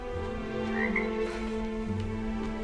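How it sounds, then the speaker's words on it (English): A frog croaks loudly in the RiMe video game, a deep, continuous ribbed croaking that sits over a dense, steady ambient game background, with no voices. "I just heard a very loud frog."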